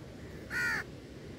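A single crow caws once from high in a tree, a short harsh call from some distance above, against quiet outdoor background in Ras Al Khaimah, UAE.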